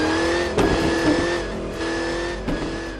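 Toy racing car simulating a supercharged V8 engine: a steady, loud synthetic engine drone with a few brief bursts like revving or tire noise, heard alone for about three seconds.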